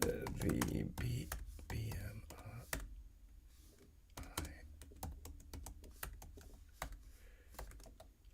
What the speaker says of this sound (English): Typing awkwardly.